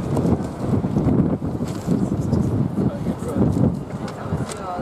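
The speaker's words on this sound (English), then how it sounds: "a lot of wind" Wind gusting steadily across the microphone outdoors, a loud, continuous low rumble that swells and dips throughout.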